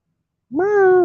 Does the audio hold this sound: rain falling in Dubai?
no